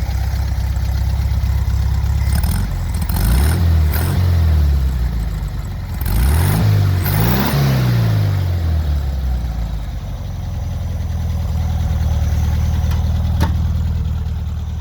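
A 1971 Volkswagen Super Beetle engine heard through a fairly quiet exhaust: a steady idle broken by two rising revs that fall back, then the engine settles into idle again.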